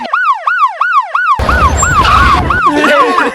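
Ambulance siren wailing in a repeating rising-falling pattern, loud and close, continuing as traffic and street noise build up beneath it.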